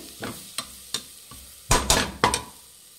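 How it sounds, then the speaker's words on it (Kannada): Whole spices fry in a pan on a low flame for plain kushka, heard as a series of separate scraping stirs, a few soft then several louder bursts, close up with no voices. "ಲೋ ಫ್ಲೇಮಲ್ಲಿ ಇಟ್ಕೊಂಡು ಫ್ರೈ ಮಾಡಿ"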